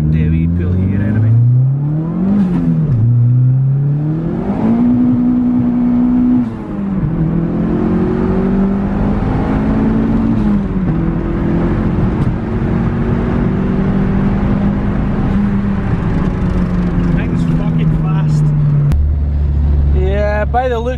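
A Honda D16 engine pulls hard under acceleration, its revving tone climbing and holding steady across the run with a loud, close drone, then dropping off near the end.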